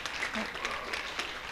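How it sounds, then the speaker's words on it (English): An audience applauds at a vegetarian cooking demonstration, a short burst of clapping that is moderately loud and heard from nearby. "give them a big applause"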